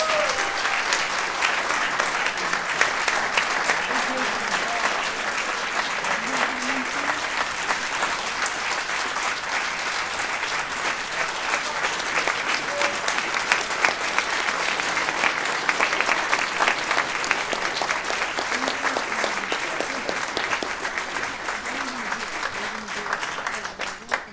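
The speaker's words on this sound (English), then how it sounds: "Let's give all these gentlemen a nice warm round of applause." Sustained warm applause from an audience at a Republican township committee salute celebration, steady dense clapping filling the room for the whole stretch, loud and continuous with faint crowd murmur beneath.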